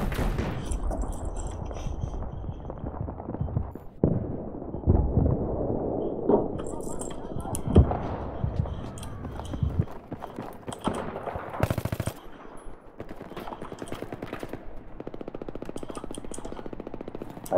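Battlefield 3 firefight with rapid machine-gun bursts and single gunshots rattling through most of the stretch, loud and close, with scattered louder reports and brief gaps.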